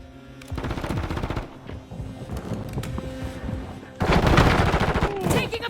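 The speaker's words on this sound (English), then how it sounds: "Taking effective fire!" Bursts of automatic gunfire from a Modern Warfare III match ring out loud and close in repeated volleys, with a heavy, sustained rattle of shots filling the final seconds.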